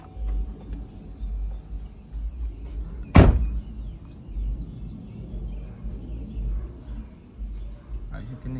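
A single sharp thud of a 2016 GMC Acadia car door being shut, close and loud midway through, over a steady low engine or fan hum with faint background noise.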